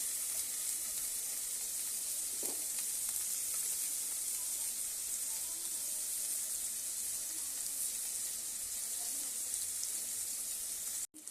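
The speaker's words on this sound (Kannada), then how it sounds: "ಈರುಳ್ಳಿ ಫ್ರೈ ಮಾಡ್ಕೊಂಡಿದ್ದೀನಿ" Onions frying in oil in a pan, a steady dense bright sizzle that holds evenly throughout at close range, with a faint tap near the start and a brief break at the very end.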